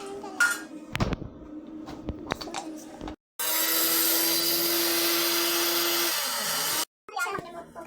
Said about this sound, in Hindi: अब इसको ग्राइंड कर लें